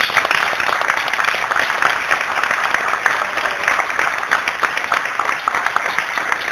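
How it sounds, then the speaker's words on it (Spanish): Sustained audience applause at a live music performance, many hands clapping steadily at moderate loudness throughout, with a faint crowd murmur beneath. "por favor, con un aplauso."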